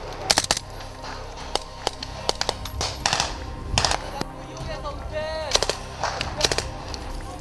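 Gunfire rings out during a military training exercise as sharp, loud individual shots and short bursts crack irregularly across the clip, some echoing, with shouted voices and radio-like chatter in between.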